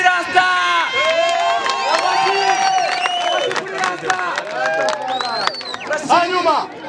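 A crowd at a youth award ceremony cheers loudly for a trophy winner, with overlapping shouts, whoops and excited voices close by and only a little clapping underneath.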